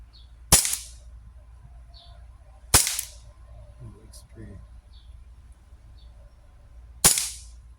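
Three sharp single shots from a Crosman P1 / Umarex airgun, spaced a couple of seconds apart, each a loud crack with a short decay, over a quiet background with faint distant chirps.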